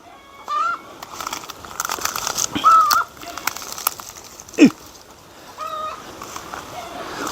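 Hens cluck in short bursts at close range, with occasional sharper calls and soft background movement.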